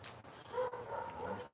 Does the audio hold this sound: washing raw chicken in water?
no